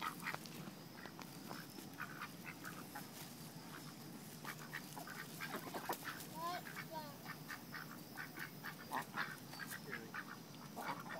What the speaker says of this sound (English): The goose is coming after me.